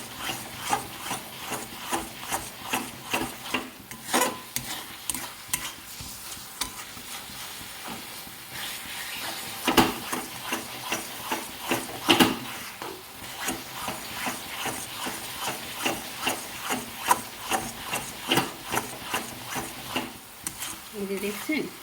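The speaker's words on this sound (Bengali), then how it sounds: "আরও 5 মিনিট মতো রান্না করে নাড়তে হবে" A spoon scrapes and stirs a drying filling of ground cashew and raisin for pithe in a pan, making rhythmic rubbing strokes with faint sizzling, moderately quiet and continuous.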